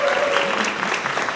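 Applause from an audience at a Dane County arts event, a dense, steady patter of many hands clapping at close range through a short burst.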